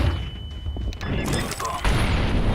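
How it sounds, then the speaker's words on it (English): A flashbang grenade bursts in a Counter-Strike 2 match: a sharp bang partway through, followed by a loud, ringing, noisy wash that swells near the end, with faint game sounds around it. "Throwing flashbang."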